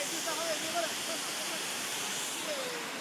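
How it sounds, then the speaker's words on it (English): A golden waterfall pours in the rain, giving a steady, broad rushing hiss that stays even and fairly faint throughout, with a few faint high tonal chirps over the spray. "I'm gonna video this golden waterfall."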